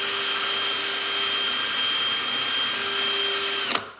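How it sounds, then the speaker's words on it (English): An electric drill spins 320-grit sandpaper to clean a burr off an Edison Triumph or Home phonograph endgate bearing, giving a steady, loud, high-pitched whine that runs continuously and then cuts off abruptly near the end. "all you need is 320 sandpaper. So you'll just take it with the drill,"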